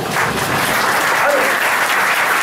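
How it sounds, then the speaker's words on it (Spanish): A church congregation at a Palm Sunday service claps loudly and continuously, a dense, close wash of applause filling the room, with some voices faintly underneath. "vamos a dar los aplausos a Dios por eso"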